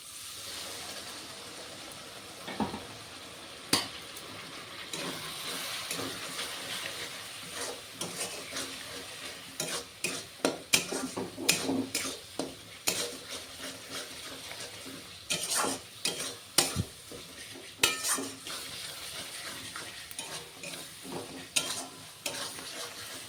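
Spice masala of cumin, coriander and turmeric powder with a little water frying in oil for a country chicken curry, with steady sizzling under repeated scraping and clattering stirs of a spoon against the pan.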